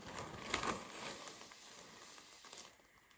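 Someone handles a plastic bag, producing a continuous dry crinkling and rustling that peaks briefly, then fades. No speech is heard.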